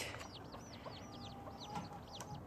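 A farm barnyard hen clucks with her chicks, a steady run of soft repeated clucks and faint peeping calls heard close over quiet outdoor background.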